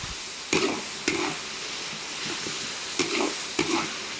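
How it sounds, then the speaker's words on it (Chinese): Pork sizzles and crackles in a hot wok while being stir-fried to render out the fat, with a steady frying hiss broken by a few sharp spatula scrapes and clacks against the metal. "我给它多炒一下哈，把多余的油脂给它炒出来"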